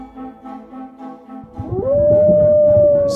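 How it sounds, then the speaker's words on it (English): Minecraft wolves howling at night: a quieter, wavering start gives way to one loud, long, steady howl that holds to the end, with no talking. "Oh, that sounds like howling."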